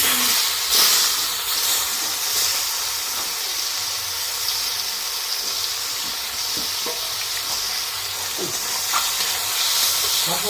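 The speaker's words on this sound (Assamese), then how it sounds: "এয়া চকিটোকে তেল ভৰাই মাছখিনি দি দিলোঁ" Fish frying in hot oil in a pan with dried red chillies, a steady close sizzle and hiss with occasional pops and small clinks, no talking.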